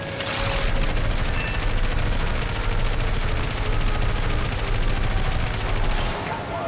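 Sustained machine-gun fire from an aircraft in the War Thunder game, a dense, rapid, unbroken stream of loud shots lasting several seconds before it stops abruptly.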